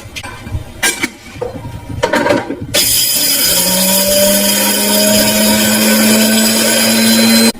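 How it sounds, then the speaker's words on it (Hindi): An electric grinder grinds roasted chickpeas into powder for frozen kofta, first with a few clattering knocks from the jar and then a loud, steady, close motor whine that climbs slightly in pitch. "मैं इन सबको पाउडर फॉर्म में लेके आता हूँ, इनको ग्राइंड करने लगा हूँ।"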